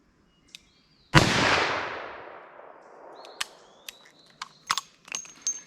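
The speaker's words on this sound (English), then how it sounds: "Let's just see how these things shoot for me. 357 mag." A .357 Magnum revolver fires a single loud, sharp crack outdoors with a long fading echo, followed by several small clicks and clanks of handling.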